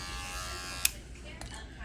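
An electric foil shaver buzzes close up during a barber's haircut, a steady whirring hum with a sharp click partway through.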